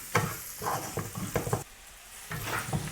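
Garlic and ginger stirred in a hot pan for butter chicken, a spoon scraping in uneven strokes over a soft sizzle, with a brief quieter pause in the middle before the scraping resumes.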